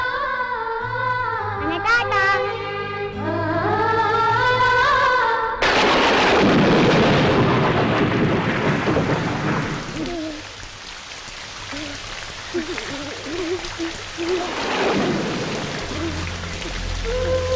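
Heavy rain pours steadily while deep rumbles of thunder roll through, following a few seconds of music at the start, in a scene from a Kannada film.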